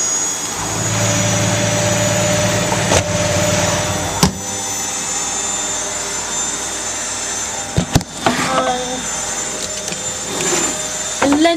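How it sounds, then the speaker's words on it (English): A washing machine slowly ramps up into its spin cycle, a loud steady motor whine and drum rumble with a few sharp knocks and clunks partway through, no voices. "It takes kind of a while this to ramp up the spin and go."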